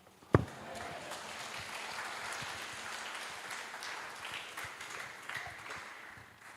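A Baptist church congregation breaks into applause after a sharp initial knock, the clapping spreading into an even patter of many hands at moderate distance that holds steady and then eases slightly.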